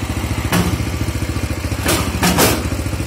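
A used excavator or tractor engine idles evenly at close range, a regular low chugging pulse with a few sharp metallic knocks and thuds over it.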